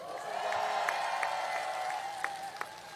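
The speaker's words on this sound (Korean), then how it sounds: "격려 박수 부탁드립니다." A crowd applauds at an outdoor presidential campaign rally in Jeju, with steady dense clapping that lasts a few seconds and sounds somewhat distant, a few sharper claps standing out.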